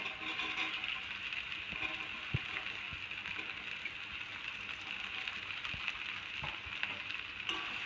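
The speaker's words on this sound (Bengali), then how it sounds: "একটু নেড়ে চেড়ে ভেজে নিয়েছি আলুটা। আমি এবার বরবটিটা দিয়ে দেবো।" Potatoes fry in a pan as yardlong beans are added: a soft, steady sizzling hiss with a few faint clicks and taps of stirring, close by and without talk.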